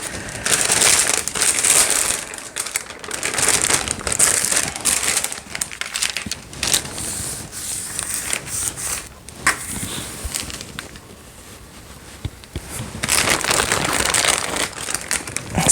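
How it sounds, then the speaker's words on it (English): Greaseproof paper crinkles and crunches steadily during abstract painting work, a dense crackling texture that runs for about fifteen seconds, dips briefly in the middle, then picks up again, with no talking. "to take my greaseproof paper again"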